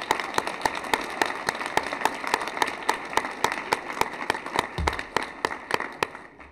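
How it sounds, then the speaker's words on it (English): An indoor audience applauds a new mayor at a public event on homelessness, a steady wash of clapping with sharp, evenly spaced individual claps standing out throughout, no voices heard. "let's give her a round of applause"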